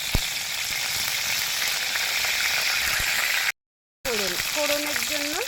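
Hot oil with prawns and five-spice tempering for dal sizzles and crackles loudly and continuously up close, then cuts out briefly before resuming. A whistling tone rises and falls over the frying afterwards.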